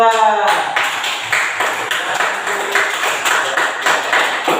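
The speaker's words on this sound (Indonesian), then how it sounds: "Tepuk tangan untuk kelompok 2." After a short spoken cue, a classroom of students claps together, a modest, fairly close patter of hands that starts abruptly and continues evenly for several seconds.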